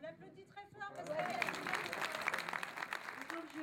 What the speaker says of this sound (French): l'applaudit très fort parce que...